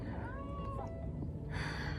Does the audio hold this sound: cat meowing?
yes